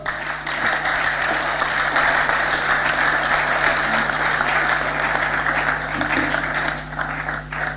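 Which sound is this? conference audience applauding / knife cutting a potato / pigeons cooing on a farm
conference audience applauding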